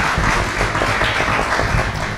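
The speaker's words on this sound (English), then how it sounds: "before I invite Dr. Emmanuel, please join me with a round of applause to really appreciate the panelists." Audience applause for the panelists at an Ebola virus disease preparedness event, a dense, steady wash of many hands clapping together, loud and close, holding evenly for its full length.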